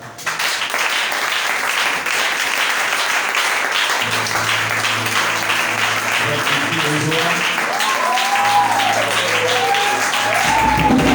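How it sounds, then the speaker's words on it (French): A church congregation applauds and acclaims the Lord with loud, sustained clapping and crowd noise. Voices and some sung or spoken tones rise through the second half, continuing under the ovation. "Je veux encore acclamer le Seigneur."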